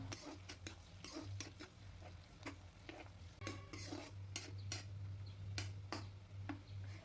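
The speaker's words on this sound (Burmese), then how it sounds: "မီးလေးလျှော့ပြီးကြက်သွန်လေးရွှေညူရောက်တန်းလာတဲ့အထိကြော်ပေးလိုက်ပါတယ်" Sliced onions fry over low heat in a pan, crackling and sizzling steadily, while a utensil stirs and scrapes against the pan with frequent sharp ticks and clicks.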